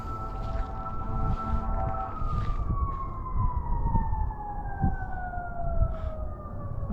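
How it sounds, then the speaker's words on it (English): Fire truck sirens wailing with a long descending tone over a rumbling engine and blasts of horn, loud and continuous throughout, no talking. "Hey, I hear fire trucks. That's not a good sign. Man, they're really blowing on that horn too."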